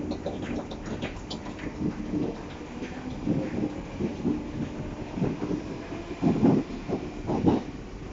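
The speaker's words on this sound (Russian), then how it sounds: "Русь еще уезжает отсюда" A Rus train on the Moscow metro's Butovo line pulls out of the station, a faint rumbling and clattering of wheels that swells in uneven bursts, heard from nearby without any voices.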